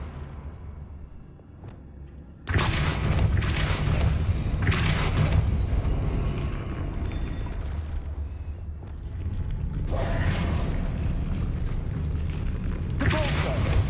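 Wingardium Leviosa levitation spell in Hogwarts Legacy, a sudden loud magical whoosh and rumbling mechanical creak that swells, dips, then surges again, with a person talking over it.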